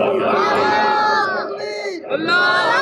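A crowd at a religious gathering shouts slogans in unison, loud massed voices with a short dip midway before the chant swells again.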